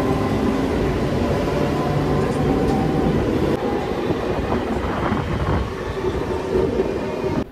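A local train at Rajghat station on the Howrah to Puri line rumbles steadily nearby, with continuous rolling wheel noise and rattling carriages heard from on board.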